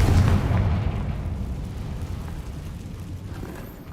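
A fiery Confringo spell explosion in the video game Hogwarts Legacy bursts with a heavy, loud boom at the start, then rumbles and fades into a long, decaying roar with no speech.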